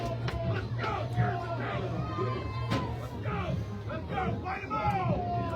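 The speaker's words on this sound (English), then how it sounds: "Listen to this crowd from Western Wheat." Home football crowd for Western Wayne making a steady roar of cheering and yelling at a playoff game, dense crowd noise with scattered shouts and whoops throughout.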